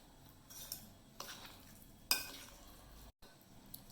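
A spoon clinks and scrapes against a bowl in a few short, separate strokes, mixing masala into quail eggs, close by, with a quiet background and no talking.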